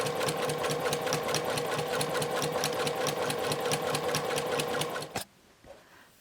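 A sewing machine runs steadily through several layers of a fabric face mask, a loud close rapid rhythmic hum for about five seconds before cutting off abruptly into quiet.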